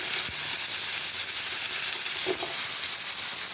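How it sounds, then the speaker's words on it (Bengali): Green plantain pieces fry in hot oil, a continuous close sizzle and crackle with a few light stirring knocks and a brief clink partway through, with no talking. "এবার দিলাম কাঁচকলাগুলো,"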